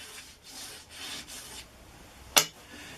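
A Nordic Jet wax block is rubbed thinly onto a ski, making several soft, rasping strokes close by. A single sharp click follows near the end.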